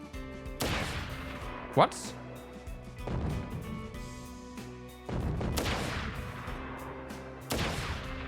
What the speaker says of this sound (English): It goes boom. I guess it's a smart bomb.